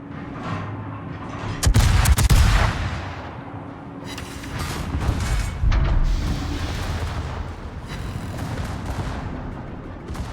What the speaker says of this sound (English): Secondaries should start popping off at him